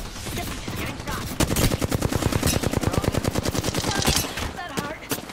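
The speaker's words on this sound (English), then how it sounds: "I'm getting shot at." Automatic weapon fire in the battle royale game Apex Legends: rapid, loud bursts of shots in a dense rhythmic stream, with brief single cracks before and after.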